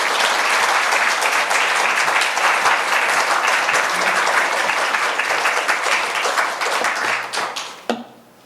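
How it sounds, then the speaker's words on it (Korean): A church congregation breaks into loud, dense applause to welcome a pastor at a revival week service, sustained for several seconds before tapering off and stopping abruptly. "우리 나오실 때 큰 박수로 환영해 주시면 감사하겠습니다"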